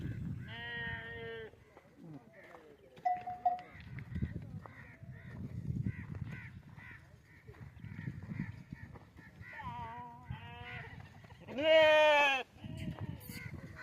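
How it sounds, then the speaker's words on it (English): Freshly shorn sheep bleat several times at a shearing salon for livestock in the Cholistan Desert, Pakistan. Clear, fairly close calls come in short bursts, the loudest near the end, over a low outdoor rumble and faint background activity. "the very fresh, slim and smart sheep after having a nice haircut."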